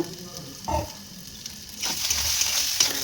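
Fried potatoes go into a pan of cooking banana stem for a Bengali ghonto, bringing a clink and a thump, then a hissing sizzle that swells and keeps going as the mix fries and is stirred.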